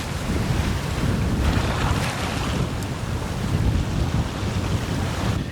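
A sailboat runs smoothly before the wind through waves off Indonesia, with steady loud wind rush and water wash filling the clip throughout, no talking.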